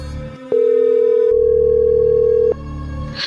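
On an outgoing call, a loud, steady electronic telephone tone holds for about two seconds through the handset, with a quieter hum before and after it.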